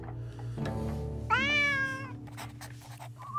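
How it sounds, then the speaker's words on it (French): A cat meows in the video game Drova, one long, clear, rising-and-falling meow over a steady low background drone, with no talking. "Un chat."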